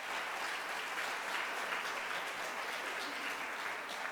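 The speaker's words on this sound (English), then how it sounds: "let's give our co-conveners another round of applause" An audience at an equity alliance update gives a round of applause for the co-conveners, a sustained, even wash of many clapping hands, fairly quiet and heard without speech.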